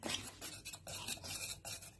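Cake batter being stirred in a bowl, a continuous scraping and rubbing of utensil against the bowl with rhythmic strokes, close and fairly quiet.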